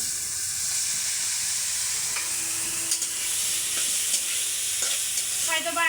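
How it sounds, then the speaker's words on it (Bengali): Okra sizzles in hot oil in a pan, a steady close crackling fry with faint scraping clinks as it is stirred. "আর এখন আমি এই যে ঢেঁড়সটা দিয়ে দিচ্ছি"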